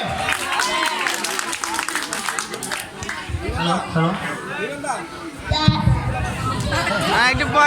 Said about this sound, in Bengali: প্রমা তালুকদারের জন্য একটা তালি হবে।